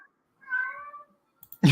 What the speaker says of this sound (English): That's his cat.